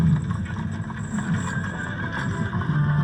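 Horses neighing and whinnying alongside steady clip-clopping hooves, as with covered wagons heading west, sounding close and continuous over a low rumbling bed for the whole stretch.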